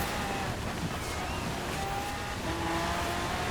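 Lamborghinis driving through snow in the Forza Horizon 4 winter event, their engines making a steady, continuous roar with a faint rising and falling whine throughout.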